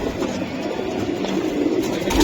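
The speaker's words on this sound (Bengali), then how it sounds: "এই যে কবুতরগুলা দেখছেন, এই কবুতরগুলা ছুটে ইনশাল্লাহ" Racing pigeons coo softly in a loft, their low murmuring calls blending into a steady rumbling background hum throughout.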